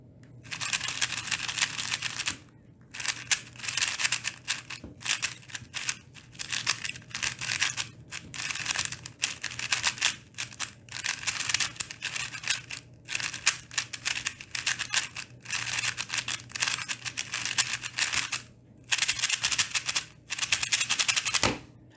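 A Zhisu speedcube turned rapidly in close-up, giving dense bursts of crisp clicking and clacking with short pauses between runs of turns.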